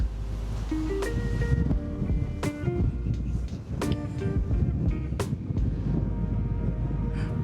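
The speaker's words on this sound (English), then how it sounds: "I'm also sure that the microphone will struggle with this wind" Strong, cold northwest wind on the Norwegian coast buffets a microphone clipped to a cap, a loud continuous roaring rumble with gusting surges and sharper bursts, and a faint voice now and then underneath.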